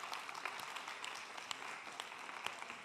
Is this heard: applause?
yes